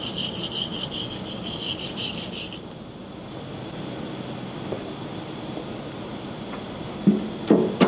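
The mudguard mounting on a vehicle is rubbed clean by hand, making a continuous close scraping and scrubbing sound with a few brief sharper knocks near the end.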